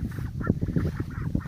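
Ducklings and hens by a backyard pond give a steady run of clucking and quacking calls, repeated bursts close by and moderately loud, with no talking.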